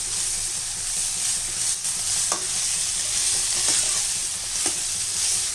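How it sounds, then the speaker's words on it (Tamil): Onions and tomatoes sautéing in a pan for Chettinad chicken curry, a steady close sizzle with occasional soft stirring scrapes and no talking. "இப்போ இந்த வெங்காயம் தக்காளியெலாம் நல்லா வதங்கிடுச்சு"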